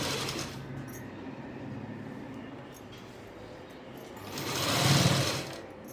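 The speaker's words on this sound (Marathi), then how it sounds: "एका साईडला व्यवस्थित असं आतमध्ये फोल्ड करून फिटिंगची पूर्ण शिलाई काढली" Sewing machine stitching the fitted seam of a ghagra skirt made from a one-piece dress, a steady close whir running throughout and swelling louder near the end, with no talking.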